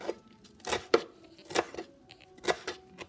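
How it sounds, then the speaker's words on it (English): Knife blade chopping a bunched handful of parsley leaves on a cutting board: sharp, distinct cuts arriving in a loose rhythm of about five strokes, close and clear against a quiet kitchen background. "we're going to chop the parsley"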